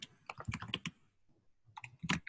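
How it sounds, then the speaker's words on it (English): Clicky keystrokes on a computer keyboard come in quick bursts of rapid taps, then a brief pause, then another flurry, close and distinct with no talking. "I'm just typing that out so we don't forget that."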